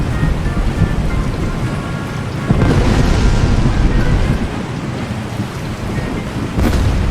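Heavy rain pours steadily in an animated construction vehicle story, with a loud rumbling thunder roll swelling in the middle and a sharp crack near the end, no voices over it.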